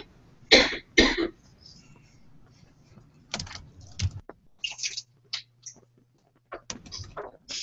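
Two sharp coughs close to the microphone, followed by scattered clicks and shuffling noises in a quiet room.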